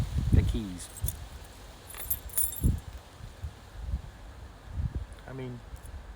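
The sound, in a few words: keys jangling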